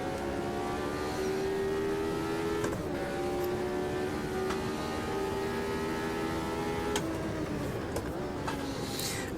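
A race car engine with a five-speed gearbox revs high and steady in the Automobilista 2 video game, a sustained close whine broken by a couple of brief gear-shift dips.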